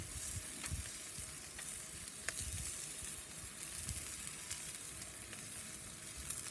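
Prime rib steak sears on a hot soapstone slab inside a Kamado Joe Big Joe 3 grill, giving a steady, fairly quiet sizzle with faint crackles and no talking.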